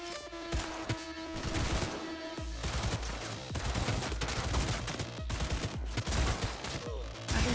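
Sustained Cyberpunk 2077 firefight: rapid automatic gunfire and overlapping shots rattle continuously, close and loud, with brief lulls between heavy bursts throughout.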